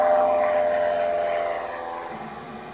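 A steady chartered airplane engine drone in a Jurassic Park game, flying over Isla Sorna, with a sustained humming tone that slowly fades over a few seconds, no voices.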